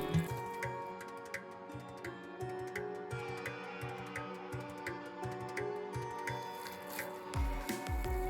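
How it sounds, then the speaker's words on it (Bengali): Wet rice dough kneaded by hand with small splashes of water, giving soft repeated squishing and sticky slapping sounds in a steady rhythm, close and fairly quiet. "অল্প অল্প জল দিয়ে মেখে নেব একটা শক্ত ডো তৈরি করে নেবো"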